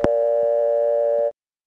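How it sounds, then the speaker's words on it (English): A loud, steady pre-dial tone sounds on a 1977 Carolina Telephone payphone in a step-by-step office, holding for just over a second after a click and then cutting off abruptly. "When you pick up a payphone in this and many other Carolina telephone steps, you hear a tone which is quite loud until the dial tone comes on."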